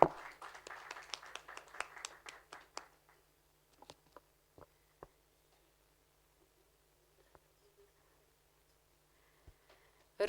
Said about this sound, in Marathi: झूमवर नक्कीच टाळ्यांचा कडकडाट होतोय, इथेही होऊ देत